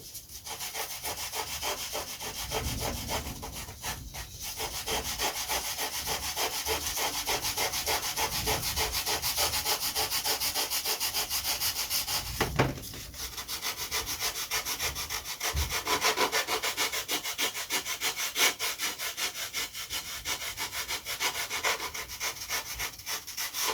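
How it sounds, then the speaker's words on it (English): Continuous scratchy rasp of sandpaper rubbed by hand back and forth over the wood of a model glider, steady and close for a long stretch, with brief pauses and no voices. "So let's go back to sanding this a little bit anyway."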